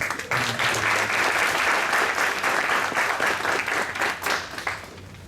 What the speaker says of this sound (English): Also a round of applause to our invited guests